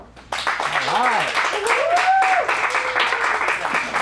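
An audience at an adult acting showcase breaks into clapping and cheering after a performance, with whoops and raised voices rising over the applause, all fairly loud and close.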